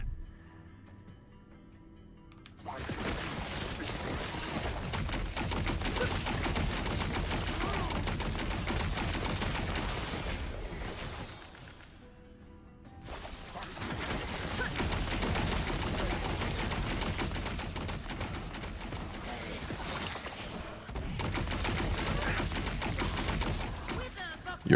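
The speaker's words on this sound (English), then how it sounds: "See the machine gun?" Machine gun spell in Last Epoch cast by a Stygian Coal Lich, rapid continuous crackling fire in two long sustained bursts separated by a brief lull, loud and dense.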